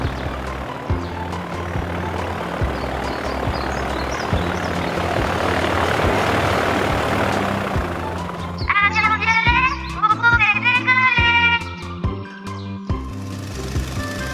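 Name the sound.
cartoon airplane moving away from the runway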